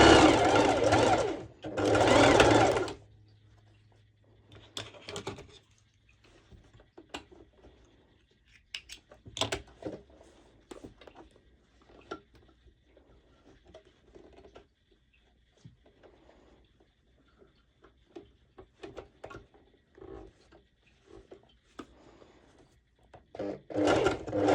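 A sewing machine stitches layers of fabric for ruched shorts, two loud short runs at the start, then sparse clicks, handling noises and brief bursts of stitching.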